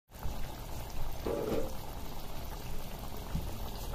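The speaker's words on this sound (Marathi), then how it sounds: "आता याला एक दणदणीत उकळी काढून घ्यायची" Punjabi chole, a chickpea curry with fresh coriander, bubbles at a vigorous boil in a pot, a steady close bubbling hiss throughout with a brief lower blip partway, and no talking.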